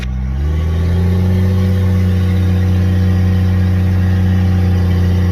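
A Jeep with a 12-valve Cummins diesel engine pulls away under acceleration, its loud, steady low diesel drone rising and holding close by, with no talking.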